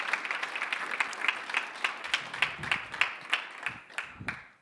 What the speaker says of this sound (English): That was a good enough clap.